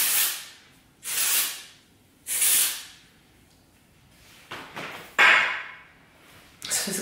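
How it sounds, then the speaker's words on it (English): Texturizing hairspray sprayed between the layers of mid-length hair, heard as four or five short, close, hissing bursts separated by brief pauses. "I just shake it up and I kind of just lift my hair and put the texturizing hairspray between the layers"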